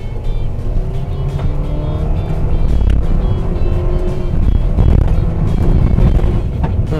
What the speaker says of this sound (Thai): บนเส้นทางเดิร์นะครับ ความเร็วที่ใช้ 60กิโลเมตรต่อชั่วโมงไปลุยกันดูครับ